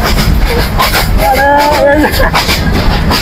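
The rumbling rattle of a moving passenger train from Mymensingh to Sylhet, heard from inside a carriage as it rocks up and down, with a person talking over the constant noise.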